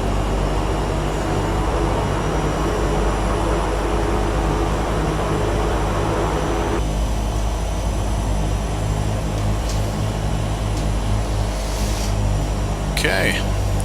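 A turboprop airliner engine in a flight simulator is pulled back into beta after touchdown on the runway. A loud, steady drone runs throughout, and its upper hiss thins out about halfway through.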